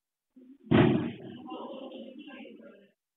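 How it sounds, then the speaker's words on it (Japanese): A burning truck explodes in a single sharp boom, loud and close, then fades into a crackling, rumbling tail lasting a couple of seconds. "爆発音のようなものも聞こえ炎が立ち上り始めました"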